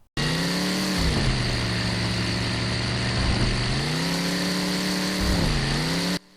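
Synthetic car engine from the 2000 demo of the video game 4x4 Evolution drones continuously, with pitch dipping and rising as the vehicle slows and speeds up, steady and loud without talk.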